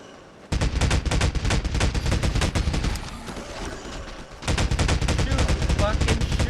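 Gunfire in Half-Life 2 on Xbox: dense, rapid automatic shots crackle loudly and continuously, ease into a brief lull of rumbling action, then resume as another fast, sustained burst.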